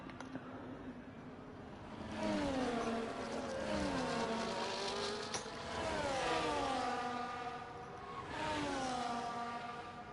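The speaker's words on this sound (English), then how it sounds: "This is when this lazy fucking tacked-on engine noises were added as well." Race car engines in the F1 24 video game whine and rise in pitch through gear changes, a steady mid-level drone with repeated acceleration swells, heard without talk.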